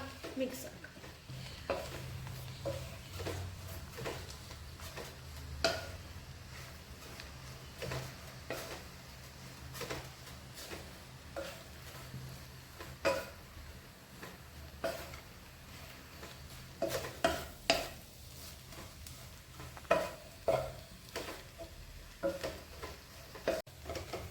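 Kothu porotta is mixed in a pan, with repeated clanking strikes and scrapes of a metal spatula over a low sizzle. A voice talks quietly at times between the strokes.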